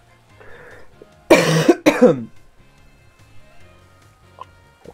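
Two harsh coughs in close succession, loud and near, with quiet background noise before and after.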